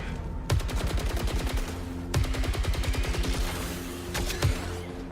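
Bursts of rapid automatic fire from a power weapon in a video game, three loud rattling volleys with brief gaps between them, close and with no talk over them.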